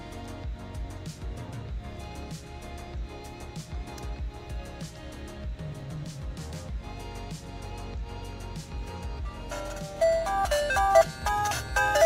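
Super Mario game music and effects play from the built-in stereo speakers of a Powkiddy Q90 handheld, a steady chiptune-like melody at moderate level, with brighter tones and a few rising blips near the end.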